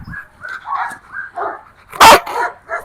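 A Rottweiler barks in short, repeated bursts during decoy protection training, close and loud, with one sharp harsher outburst near the end.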